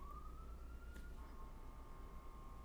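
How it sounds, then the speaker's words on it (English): A siren wails faintly in the distance, its tone rising and holding steady over a low background rumble. "Sorry if you hear those sirens."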